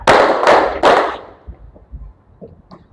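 A crowd of students claps in unison on a teacher's count, three sharp group claps in a steady beat, followed by quieter scattered taps and murmurs.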